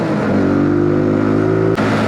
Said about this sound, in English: I'm just letting the engine rev out.